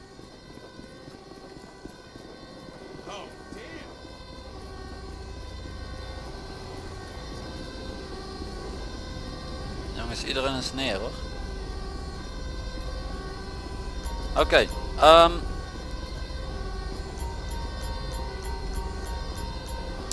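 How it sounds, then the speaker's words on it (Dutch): Fire engine siren in GTA 5 arriving amid steady in-game background noise, with a brief voice speaking over it and a couple of short sharp sounds near the middle. "Brandweerwagen is aanrijden."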